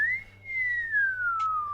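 A long, smooth electronic whistle from the robot R2-D2, gliding slowly downward in pitch with a brief chirp near the end.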